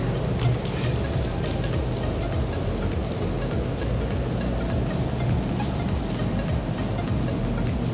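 Rain falls outside a luxury hotel in a steady, even wash of soft hiss with low background rumble, no one speaking.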